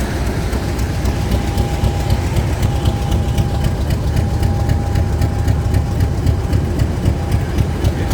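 A Class 50 diesel locomotive, 50021, idles loudly close by at a heritage railway diesel gala, a deep steady rumble with a thin constant whine riding on top.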